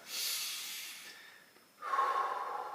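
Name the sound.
breathing in through the nose, out through the mouth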